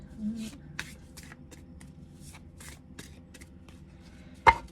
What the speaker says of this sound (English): not the easiest card to shuffle